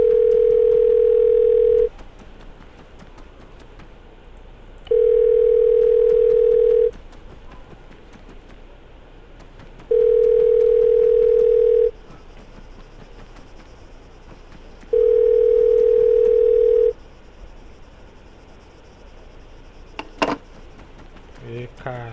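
Telephone dial tone inside the game ARMA 3, heard as four steady beeps about two seconds long, each repeating every five seconds, loud against a faint background, followed by a brief burst of noise near the end.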